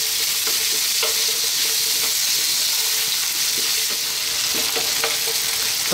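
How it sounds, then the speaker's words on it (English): Potatoes frying in a pan over fairly high heat, a dense, continuous sizzle with faint stirring scrapes and taps at intervals, close and steady, with no voices. "we're going to add in our potatoes and we're going to fry these for about 3 to 4 minutes"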